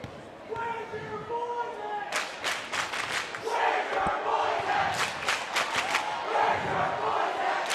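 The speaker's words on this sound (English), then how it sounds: "You can hear our cheer block." A student cheer block at a girls varsity basketball tournament game, with crowd shouts, rhythmic chanting bursts and clapping echoing in a gym, heard under a commentator's voice.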